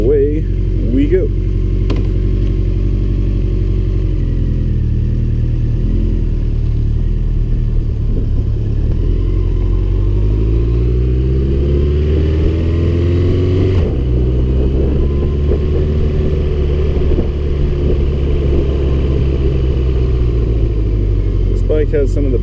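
A 2013 Honda CB1100 motorcycle engine rumbles loud and close while riding, a deep steady drone whose pitch dips and then climbs again as the revs change partway through.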